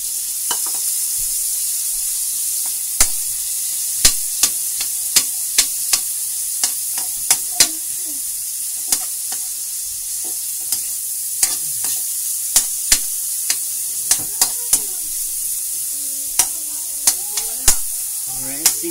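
Ginger and garlic fry in a pan with a soft, steady sizzle beneath sharp, irregular clicks and scrapes of a spatula stirring, close by and fairly loud.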